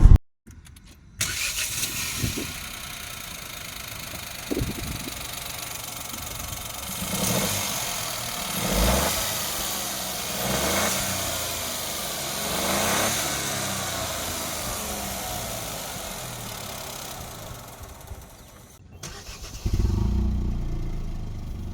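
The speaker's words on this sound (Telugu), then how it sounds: "ఇప్పుడు ఒకసారి ఇంజన్ స్టార్ట్ చేసి మీకు దీని ఇంజన్ వైబ్రేషన్స్ ఎలా ఉన్నాయి, దాని తర్వాత ఎగ్జాస్ట్ నోట్ ఎలా ఉందో చూపిస్తా" A Kia Syros HTK (O) compact SUV engine cranks and catches, then settles into a steady close-up idle with a few gentle swells in revs before cutting off near the end.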